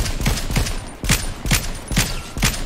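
Gunfire in the video game Fortnite, rapid bursts of loud, close shots in an uneven rhythm, alone with no talk.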